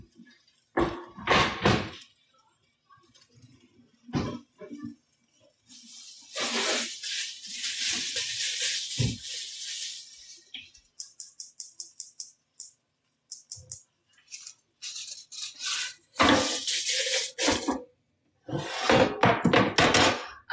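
A non-stick cast iron pan, covered with foil, is shifted across a stovetop, making several clattering knocks and scrapes in short bursts between quiet pauses.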